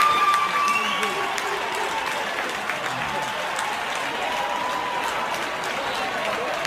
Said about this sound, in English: They're cheering.